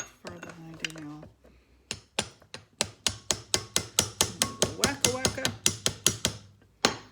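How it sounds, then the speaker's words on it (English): Repeated sharp metallic chisel strikes on pot metal of a Madison Kipp model 50 oiler lubricator eccentric, a steady run of about twenty close, loud taps after a brief spoken exclamation. "now I'm chipping pot metal in my face again"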